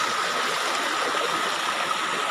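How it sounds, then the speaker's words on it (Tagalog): Steady, full rushing of river water flowing downhill toward a tall waterfall, an even broadband roar with no pauses, close and loud, with no voices. "dyan dumadaan yung tubig. Pababa. Pababa doon sa talon."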